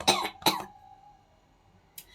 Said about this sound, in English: TB, dry cough. Like, let me use mine as an example. Because I have cough.